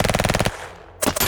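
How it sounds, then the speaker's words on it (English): Rapid burst of automatic gunfire as a sound effect in a Star Citizen audiobook about a Tevarin pirate, loud and close with evenly spaced shots, a brief pause, then another burst. "A burst of additional gunfire followed and impacted centimeters in front of his face"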